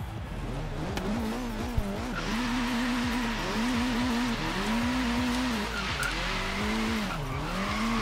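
Ford Focus RS Horizon Edition drift car in Forza Horizon accelerating through its gears, loud engine revs climbing and dropping repeatedly with tire squeal and skidding throughout.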